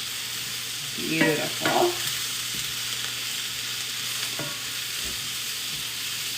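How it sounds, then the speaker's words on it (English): Blanched snow peas sauté in a pan for a steak stir fry, a soft, even sizzle with a few utensil knocks early on, while someone briefly speaks a single word. "And I'll give these a little saute up."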